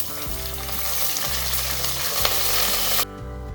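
Sliced onion sizzles loudly in about five to six tablespoons of hot oil for a biryani, a close, continuous frying crackle with a low rhythmic stirring rumble beneath, then an abrupt drop near the end.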